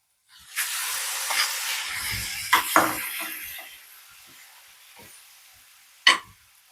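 Cooked vegetable pasta stirred in a pan, a steady hissing sizzle with scraping strokes and a sharp clack near the end, no talking.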